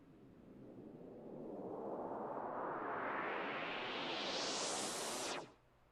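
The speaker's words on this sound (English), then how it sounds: "Part of the drones." A synthesized noise drone swells and climbs steadily in pitch for several seconds, then stops abruptly.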